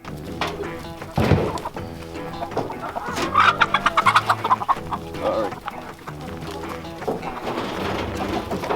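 Several composting chickens cluck and chatter nearby at a chicken feeder in a busy, overlapping stream, with a sharp knock early on.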